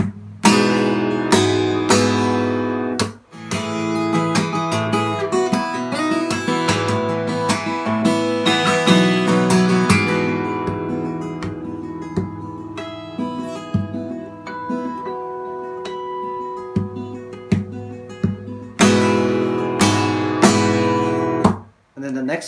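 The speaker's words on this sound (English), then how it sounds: "And it's going to be the same harmonic slap." Acoustic guitar played in a fingerstyle arrangement of a piece, with ringing harmonic notes struck by percussive slaps on the strings, a steady close rhythm that briefly pauses before resuming.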